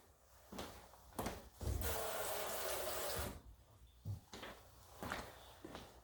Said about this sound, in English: I'm gonna rinse my knife really quick